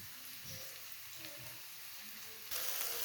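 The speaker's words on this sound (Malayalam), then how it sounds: "അതിലോട്ട് ചപ്പാത്തി ഇട്ട് കൊടുക്കാം." A rolled chapati laid onto a preheated pan, giving a faint, steady sizzle with a low crackle, brightening into a louder hiss near the end.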